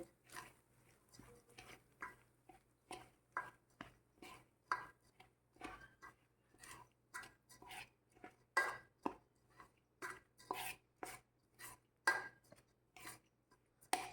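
Almonds and cardamom powder being mixed into a warm wheat flour churma ladoo mixture by hand or spoon, giving soft, regular scraping and stirring strokes against a bowl, quiet and close with a faint steady hum beneath.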